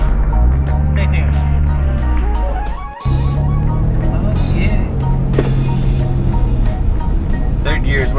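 A car engine runs hard in third gear, a loud, steady drone with a sharp momentary cut partway through before the pull resumes, with a voice heard at times over it.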